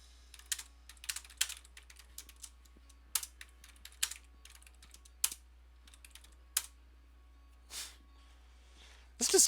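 Bursts of typing on a computer keyboard, quick clusters of clicks separated by short pauses, close and crisp in a quiet room, ending with a louder rustle.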